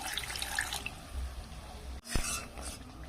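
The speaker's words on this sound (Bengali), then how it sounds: "এখানে ফের একটু আমি জল দিয়ে দেবো।" Water pours into a pan of frying spice paste while a Bengali potato and soya chunk curry is being cooked: a steady splashing stream, then a short pause and a brief second splash, heard close with no talk.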